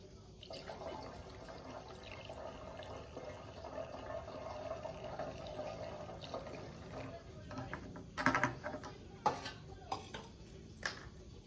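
Water poured into a rusty Honda C70 fuel tank already holding vinegar, a faint trickling fill under talk, followed by metallic clanks and knocks.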